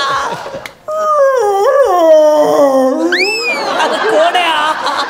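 A man on a comedy stage show imitating a dog's howl, a long rising and falling wail that bends upward near the end, with laughter breaking out around it.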